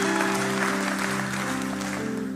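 Church congregation applauds in a dense, even wash of clapping that holds steadily, with a low sustained musical tone underneath.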